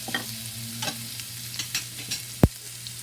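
Crushed ginger, garlic and green chili frying among dry spices for an aloo gobi masala, a soft steady sizzle with light stirring scrapes and one sharp knock of a utensil against the pan.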